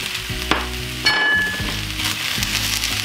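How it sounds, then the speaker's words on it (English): Sliced white onions and bell peppers stir-frying in a pan for a vegan Thai basil stir fry, a close, steady sizzle with clinks and scrapes of stirring, no talk. "And you just need to keep frying this up until the veggies are cooked."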